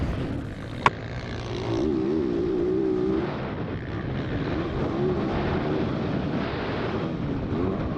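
A Yamaha WR450F dirt bike runs on a motocross track, its engine a steady, loud drone that rises and falls with throttle against heavy wind rumble, with one sharp click early on.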